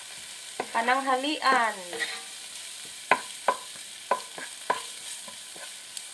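Sardines with tomato being stirred and sautéed with patola and ampalaya leaves, a few sharp utensil knocks against the pan over a low steady sizzle, with a brief burst of speech near the start.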